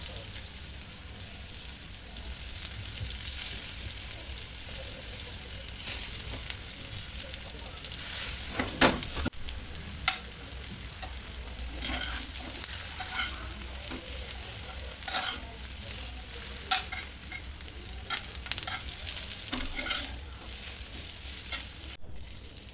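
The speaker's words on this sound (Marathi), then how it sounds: "मस्त अशा भाजून घ्यायच्या तेलात" Coriander vadi pieces shallow-frying in hot oil give off a steady, fairly quiet sizzle, with occasional stirring and crackling noises over a soft background hum.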